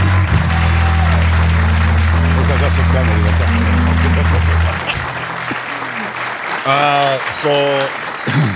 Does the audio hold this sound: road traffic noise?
no